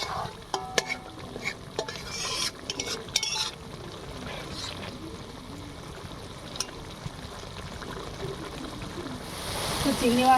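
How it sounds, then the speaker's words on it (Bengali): Fried prawns go into a pan of prawn curry with cashew and melon-seed paste and green chillies, and are stirred while frying: steady close sizzling with scraping and clinking of the spatula, brighter sizzle near the end. "এবারে ভাজা চিংড়িটা দিয়ে দিচ্ছি।"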